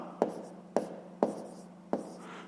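A pen writes out a maths calculation by hand on paper in four quick, evenly spaced scratching strokes, close and fairly quiet.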